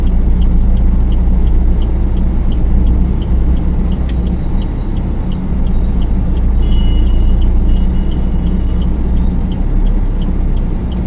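A car engine runs steadily during a driving lesson, a loud continuous rumble with no breaks, and faint periodic ticking sounds above it.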